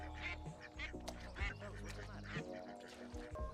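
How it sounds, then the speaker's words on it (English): Two wild ducks quack repeatedly beside a backyard swimming pool in the TV drama The Sopranos, the calls loud and close over a low musical score. "these 2 wild ducks landed in my pool"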